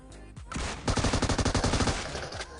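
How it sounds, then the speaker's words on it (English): Rapid shotgun gunfire in the PUBG Mobile video game, a loud close burst of repeated blasts in quick succession lasting about two seconds, with no talk. "Yeah, shotgun is good. Close range."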